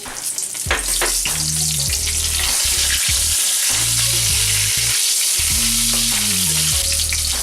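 Chili sizzles loudly in hot oil on top of a cumin tempering for dhokla, a continuous close hiss broken by a few short pauses and stirring, with nobody talking.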